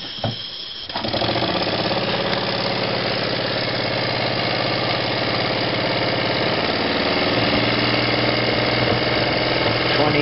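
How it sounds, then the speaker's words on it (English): Small engine spinning a launch shaft that drives a dynamo, starting up after a brief quiet moment and then running at a steady, loud, continuous chugging hum to the end. "the engine will spin the launch shaft a bit faster, and then the launch shaft will spin the dynamo a bit faster"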